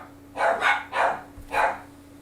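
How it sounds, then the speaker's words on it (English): Dogs bark four times in quick, uneven succession indoors, fairly close and loud against a faint steady hum. "are the dogs barking at?"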